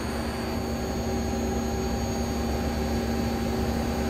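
A 1995 Mazak SQT15MS CNC lathe spindle runs steadily, giving a continuous close-up mechanical hum with a thin high whine over a broad hiss. The pitch stays nearly even as it slows, and no one speaks.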